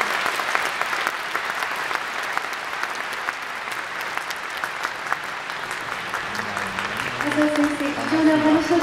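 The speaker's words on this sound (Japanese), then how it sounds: "もう一度大きな拍手をお願いいたします。" A crowd at a 2011 political rally in Hamamatsu applauds steadily after the speech, a dense, even clatter of many hands, with a voice starting to speak near the end.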